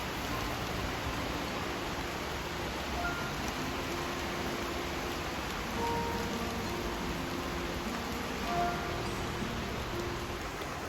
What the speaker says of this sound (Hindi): और तब तक यहाँ पर बारिश हो गई थी शुरू, ये देखिए बाहर।